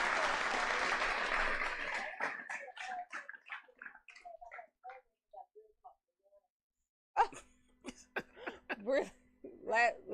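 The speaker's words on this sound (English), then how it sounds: "let me get a clap" Brief burst of clapping from a small studio group at the start, fading quickly into scattered voices and conversation.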